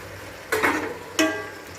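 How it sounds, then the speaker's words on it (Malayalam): Half-cooked chicken stirred into a Kerala-style masala gravy, two short scraping, sizzling bursts of a spoon moving through the pan, close and fairly loud, with quiet gaps between. "നല്ലോണം ഇത് നമുക്ക് ഇളക്കി കൊടുക്കാം."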